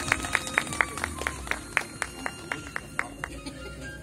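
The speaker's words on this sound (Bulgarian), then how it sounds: "Аплодисменти!" Sparse applause from a small group at the opening of a crafts and arts centre, with distinct claps in a loose rhythm over faint room murmur.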